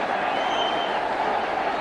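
Brief burst of stadium crowd noise at a Bangladesh vs Sri Lanka Asia Cup cricket match, cheering and applause forming a constant roar, with commentary faintly underneath.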